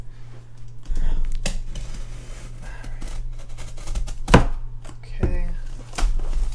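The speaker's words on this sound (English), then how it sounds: "Got my trusty knife here, and we're going to carefully cut away at this." A knife cuts into a cardboard box up close, making repeated scraping and slicing strokes over a steady low hum, with a few sharp rips. Someone briefly speaks.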